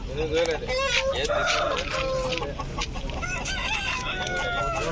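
A rooster crows repeatedly at the busy Gudur weekly chicken market, with other fowl clucking around it and the steady hubbub of the market behind.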